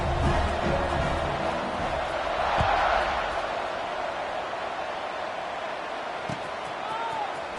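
A large video game stadium crowd roars and cheers in a steady wash of noise, with a few thuds and a faint whistle-like tone rising above it.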